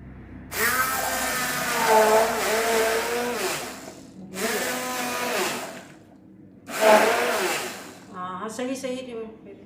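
A mixer grinder jar grinds in a home kitchen during sehri cooking, running in three loud, whirring bursts of a few seconds each with brief pauses between, then a shorter, rougher final spin.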